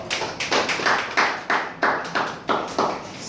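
A small audience claps at a network marketing event, about ten slow, separate claps in a steady rhythm, close and fairly loud with no talk over them.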